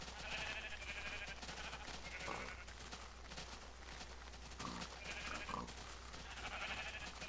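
Several overlapping sheep bleats from a crowding flock in Minecraft, repeated cries at irregular intervals over a steady low hum, fairly close and without speech.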